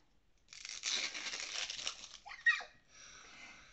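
A plastic snack wrapper is torn open by hand: a rough ripping burst lasting over a second, then a sharper tear and faint crinkling, close and quiet.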